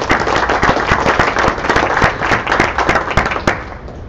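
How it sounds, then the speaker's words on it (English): A workshop audience at a DNSSEC session in Dublin gives a round of applause, a dense, loud patter of many hands clapping steadily for about four seconds with a few sharper claps standing out. "please join me in a round of applause"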